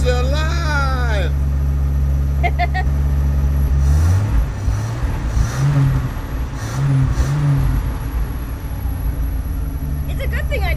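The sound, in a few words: car engine starting up and idling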